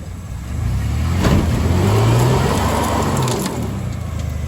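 A car's engine revs up and holds while its wheels spin on gravel at a local fest, a rising close roar with whining pitch and crunching grit, easing back down near the end.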